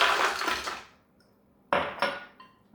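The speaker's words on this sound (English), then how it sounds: "And I'll be adding the glass of ice." Ice cubes tumble from a glass into a Vitamix blender jar with a brief clattering rush, a pause, then a second, shorter rattle of ice, fairly quiet and close.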